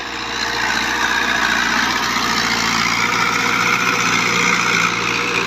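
New Holland 640 tractor working a disc harrow, its diesel engine droning steadily under load with wheels slipping, a continuous close heavy rumble that holds level throughout without pauses.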